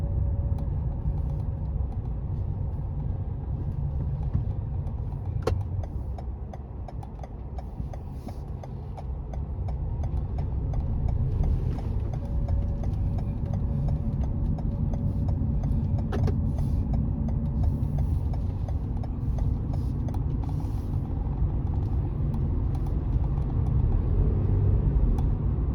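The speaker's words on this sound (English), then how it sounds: "I will drive toward the centrum on this roundabout." Interior of a car driving through a roundabout, with a steady low engine and road rumble, faint rhythmic ticking of an indicator, and occasional small knocks, continuous and fairly even.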